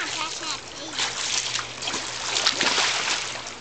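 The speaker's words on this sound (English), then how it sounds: "Hey, don't splash over here." Water splashes in a new home swimming pool, continuous and close, with children's voices and chatter mixed in.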